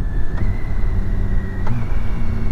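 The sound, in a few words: BMW K1600 bagger motorcycle riding into town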